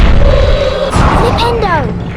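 Flipendo knockback jinx cast in the PS1 Harry Potter and the Sorcerer's Stone game: a sharp magical burst with bright swooping tones, ringing out once over steady game music and ambience.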